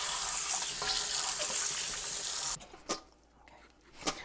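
A kitchen tap runs in a steady hiss as cut russet potato pieces are rinsed in a colander, then the water shuts off after a couple of seconds, leaving quiet with a few faint clatters and drips.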